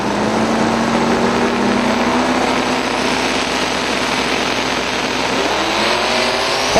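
A small block twin turbo drag racing car makes a full pass at a drag strip, a sustained loud engine roar that holds steady for several seconds as the car pulls away.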